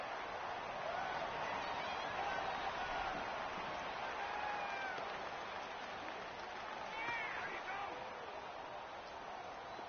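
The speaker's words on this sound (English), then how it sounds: "the crowd getting into it as we come up on a big 3rd down" A football stadium crowd roars steadily at a college game between Rnb and Tenn, building ahead of a big third down, a dense continuous wash of cheering with brief whistles and shouts rising through it and no pause.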